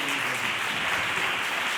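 An auditorium audience at the 2025 Castilla y León final of the Three Minute Thesis contest at the University of Salamanca claps steadily, a dense sustained patter of many hands at even loudness.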